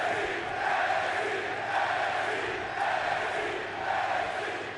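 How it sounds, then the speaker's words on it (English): A Chicago arena crowd at a professional wrestling event roars steadily, a dense wash of cheering that swells in gentle waves with no commentary over it. "This crowd in Chicago is fired up."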